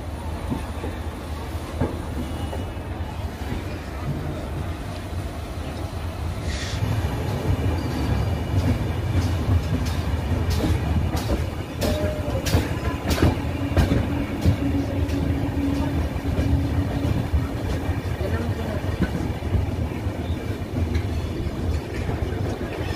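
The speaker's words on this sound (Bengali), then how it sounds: "ট্রেন আমাদের বেরিয়ে গেল হাওড়া থেকে" The Howrah–Ahmedabad Superfast Express (12834) pulls out of Howrah, its rolling rumble swelling as it gathers speed, with clickety-clack, rattles and sharp clanks from a general coach and faint background voices.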